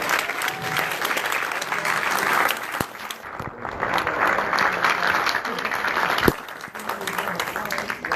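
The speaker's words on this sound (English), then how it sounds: "Let's give a round of applause for Tickled here." An audience claps and cheers in a Los Angeles theater at a film Q&A, a dense burst of applause that swells, dips briefly, then continues.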